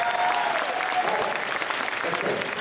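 Large convention audience at Phoenix Comicon breaks into sustained applause, a dense, loud wash of many hands clapping that holds steady for the whole stretch, with no talk over it.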